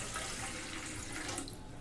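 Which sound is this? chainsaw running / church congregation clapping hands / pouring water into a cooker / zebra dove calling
pouring water into a cooker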